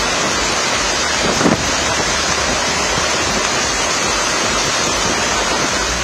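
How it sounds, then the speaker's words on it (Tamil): Rough sea waves crash and roar continuously at Pattinapakkam beach during Cyclone Ditwah, a loud broadband surge mixed with heavy wind buffeting the microphone. "புயலின் தாக்கத்தால் பட்டினப்பாக்கத்தில் கடலின் சீற்றம் அதிகமாக காணப்பட்டது."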